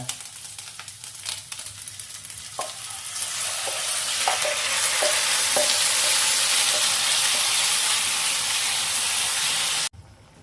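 Boiled chana dal tipped into frying spices and oil in a pan, stirred with a few spoon clinks, then a loud steady sizzle and hiss builds and holds close until an abrupt stop.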